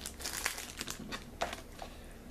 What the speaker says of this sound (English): Let's go ahead and rip this open and see what we got.